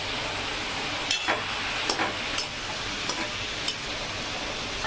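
Prawns fry with turmeric in hot oil in a pan, a soft, steady sizzle broken by about seven scraping strokes of a spatula stirring them, quiet and close with no talking.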